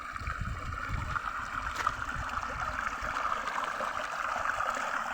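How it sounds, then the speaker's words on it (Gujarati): An electric irrigation pump motor runs steadily beside a wheat field, pushing water out through a pipe: a continuous rushing, gurgling flow over a low mechanical hum, close and even throughout. "અમારી મોટર ચાલુ છે, આ જો।"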